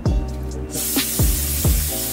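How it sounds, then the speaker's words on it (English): Olive oil cooking spray hisses onto a hot skillet in one loud, steady burst, close up, with a soft tonal hum underneath and no talking. "But first, you get the olive oil spray."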